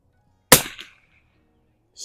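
A single sharp rifle shot from an Anschutz at an outdoor shooting range, cracking loudly once, then a brief decay and near silence.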